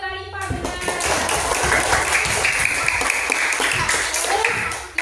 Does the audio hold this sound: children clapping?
yes